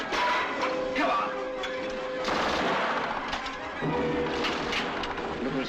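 Battle gunfire from a 1945 war film, with dense bursts of shots and machine-gun fire running continuously and loudly throughout, mixed with shouting voices.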